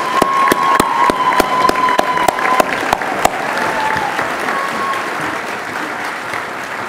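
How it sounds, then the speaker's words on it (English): An awards-ceremony audience at an annual employee awards program applauds the nominees, a steady wash of many hands clapping with a few sharp nearer claps standing out, fairly loud and holding through to the end. "let's give a big round of applause for all the Gaber nominees"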